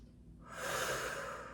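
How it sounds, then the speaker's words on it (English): A single audible breath during an exercise class, drawn in through the nose and pushed out through the mouth, rising into a close, airy rush that fades slightly at the end. "Try breathing in through your nose, out through your mouth."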